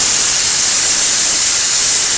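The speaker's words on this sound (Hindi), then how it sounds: "कुकर में 2 से 3 सीटियाँ लग गई हैं।" A pressure cooker whistling and releasing steam while boiling roasted potatoes and dried lentil dumplings, a steady loud hiss with no voices.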